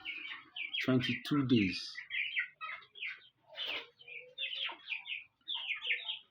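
Three-week-old poultry chicks on a farm in Otukpo, Nigeria, chirp in steady high-pitched peeps close by. A person speaks briefly near the start.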